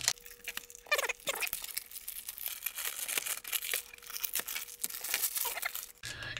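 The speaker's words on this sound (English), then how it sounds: "Crinkly plastic, direct from Japan" Crinkly plastic sleeve and bubble wrap wrapped around a Sharp PC-G850 pocket computer from Japan, rustling and crackling close up in irregular bursts of crinkling as it is handled.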